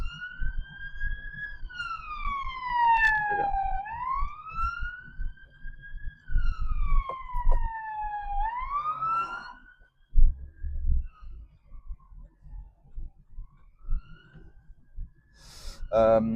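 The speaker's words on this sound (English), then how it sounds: "there was a police car trying to overtake me" A police car siren sweeps up and down loudly as it passes close by on a road, then fades, with engine and traffic rumble beneath and a brief burst of noise at the end.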